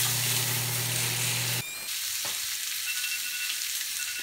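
A steak in a pan sizzles loudly and steadily with a low hum beneath, then is flipped and the sizzle drops abruptly to a softer, thinner hiss.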